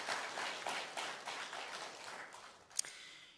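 Congregation applauds in a church after a choir performance during a Sunday service, a scattered roomful of clapping that fades gradually, ending with one sharp knock near the close.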